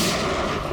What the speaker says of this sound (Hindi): एक काम करो पंकज, मुझे कवर करो और फायरिंग करते रहना।